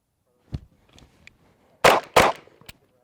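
Two sharp, loud pistol shots in quick succession during a failure-to-stop drill fired from a seated position, preceded by a few fainter clicks and knocks and followed by a brief metallic tap.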